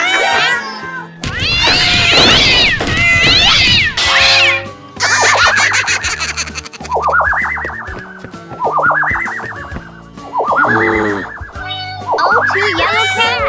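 Two yellow cats meowing in repeated rising and falling calls, loud and close, with bouncy cartoonish sound effects and children's voices mixed among the cries.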